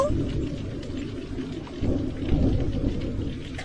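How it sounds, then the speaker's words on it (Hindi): Heavy rain pours steadily while low rumbling thunder rolls underneath, a dense continuous storm wash with swelling peaks. "तेज बारिश हो रही है और बिजली भी कड़क रही है"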